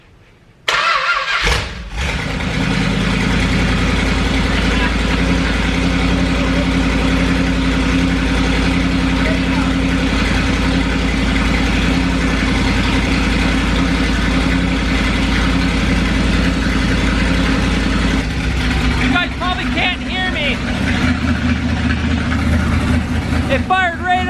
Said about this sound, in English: It fired right up. Look at that. It even idles.